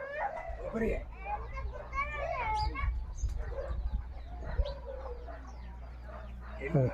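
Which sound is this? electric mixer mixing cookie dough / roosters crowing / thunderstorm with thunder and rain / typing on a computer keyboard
roosters crowing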